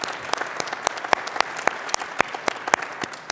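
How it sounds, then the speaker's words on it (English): An audience at a summit forum presentation claps in a steady, dense patter of hands, fairly distant and moderately loud, lasting a few seconds with no voices over it. "Let's give them a big round of applause."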